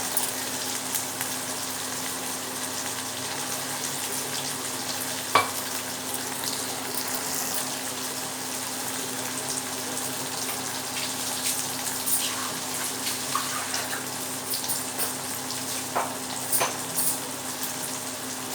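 Crushed ginger, garlic and fennel seeds sizzle steadily in a hot pan, a continuous close frying hiss with occasional stirring clinks and no talk.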